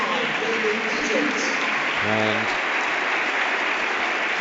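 Home football supporters at a Preston match applaud a substituted player with a steady, even patter of crowd clapping, while a commentator's voice speaks briefly over it.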